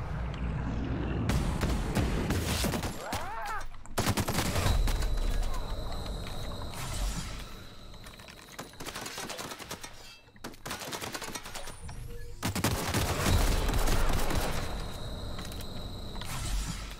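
Gunfire in The Outer Worlds video game, long rapid automatic bursts separated by short pauses, loud and dense with ringing echoes, in three main volleys across the stretch.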